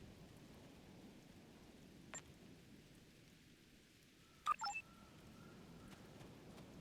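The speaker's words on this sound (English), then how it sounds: "Wow, rain on Ryza." Steady rain hiss falls on the planet Ryza in the Star Trek Online video game, a faint, even wash running throughout with a couple of brief clicks and blips from the game partway through.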